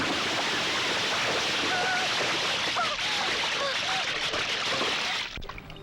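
Rushing water after a person is thrown in, a continuous loud splashing churn with faint tonal chirps over it, then cutting off near the end.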